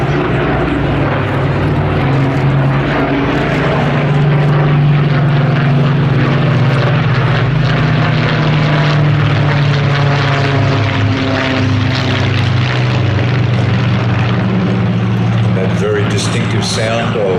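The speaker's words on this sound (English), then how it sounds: "Distinctive sound of the Mark 19 Griffin engine as the Lancaster flies through again." An Avro Lancaster bomber with Mark 19 Griffin engines drones past at an air festival, a loud, steady multi-engine propeller roar with deep throbbing tones that swells and holds, a commentator talking over it.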